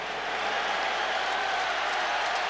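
Record crowd inside the Hoosier Dome in Indianapolis during a Bears football game, a dense, even roar of cheering and applause that holds steady throughout.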